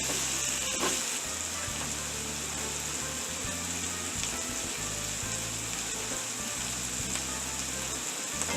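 Garlic sizzling in a hot pan while cooking for a cheesesteak, a steady, close frying hiss with faint stirring scrapes, unbroken and alone.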